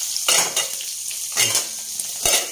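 Food frying to a crisp in a pan sizzles steadily, with three louder bursts of stirring or scraping spaced through the short stretch.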